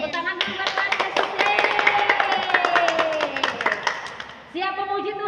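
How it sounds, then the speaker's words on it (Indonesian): People clap their hands at an online Sunday school worship service, keeping a steady rhythm over several seconds, close and clear beneath voices singing and talking. "Tepuk tangan dulu buat Tuhan Yesus."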